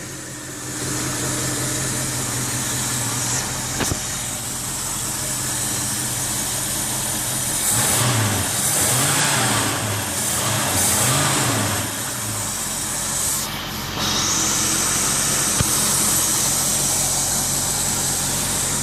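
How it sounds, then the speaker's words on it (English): Engine of a 1973 Mercury Cougar XR-7 car starting and running, a steady close idle with a couple of revs partway through, alone without talk. "Car starts right up."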